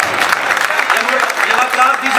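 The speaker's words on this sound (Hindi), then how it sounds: "जोरदार तालियां दी" Audience applause at a Punjabi poetry recital (mushaira), a dense steady patter of many hands clapping close by for about two seconds, with a lively crowd and some vocal cheering mixed in.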